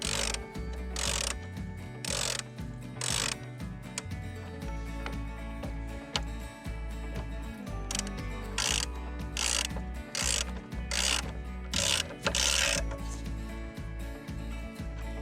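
Ratchet tightening brake caliper bolts on a Suzuki V-Strom DL650 motorcycle during a brake pad swap, bursts of rapid clicking ratchet strokes repeating between pauses, close and clear.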